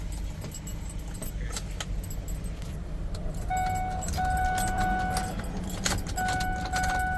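Keys jangle near a Ford F-150 as the ignition is switched on, a steady vehicle hum underneath, with electronic warning tones starting partway through.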